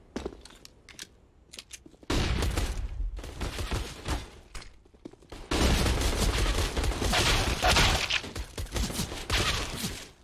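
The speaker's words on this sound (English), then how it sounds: "Pistols being exchanged here over at Monster. Z-Power getting a couple of big headshots with the P250." Pistol gunfire from a P250 in Counter-Strike during a match on the Overpass map: crisp shots and rapid exchanges. It starts sparse, then grows into dense, loud volleys with no voices.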